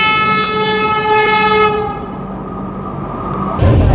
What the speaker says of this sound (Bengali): এখন আমাদের সঙ্গে দেখা হয়ে যাবে হাওড়া পুরি বন্দে ভারত এক্সপ্রেসের সাথে।